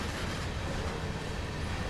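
A long CSX heavy-haul freight train in Train Sim World gives a short burst of steady rolling roar and wheel rumble, loud and unbroken, with no voices.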